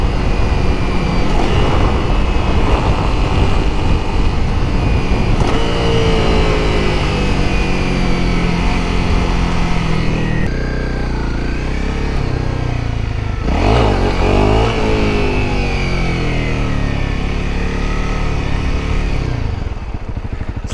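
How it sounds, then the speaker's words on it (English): A 2019 Honda CRF 250L dual-sport motorcycle on knobby tires rides close by, engine droning loud with repeated blips and rising revs during rev-matched downshifts, wind buffeting throughout. "This bike is pretty fun to rev match on"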